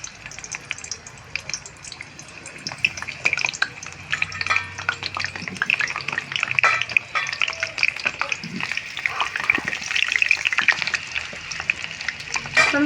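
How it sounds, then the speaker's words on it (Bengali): Cut, washed potato pieces frying in hot oil for chicken curry, a steady dense sizzle with scattered crackles and pops, close and fairly loud, with occasional clinks and stirring throughout and no talking. "এবার তেলের মধ্যে আমি ছেড়ে দেবো আলুগুলো।"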